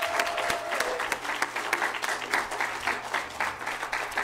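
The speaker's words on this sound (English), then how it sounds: "Would you folks be willing to stand up so we can give you another full round of applause?" Audience applause for the 2023 Summer Fishtrap Scholars at a fellows reading event, a full room clapping steadily and loudly for several seconds with no one speaking over it.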